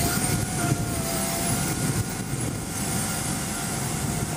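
A SubSonex small personal jet makes a low approach at around 135 to 146 mph, its engine a steady, loud, broadband roar with a faint whine, heard continuously from start to end.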